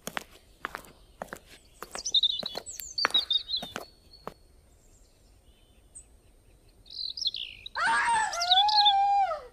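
A woman's high, wailing scream from an animated cartoon rises loud near the end, following a stretch of scattered thumps and squeaky chirping cartoon effects.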